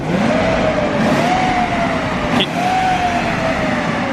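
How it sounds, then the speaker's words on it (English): A car engine treated with Seafoam revs up with a clear exhaust note, a loud, steady drone that rises and dips slightly, carrying near and prominent for the whole stretch. "I got an actual exhaust note there."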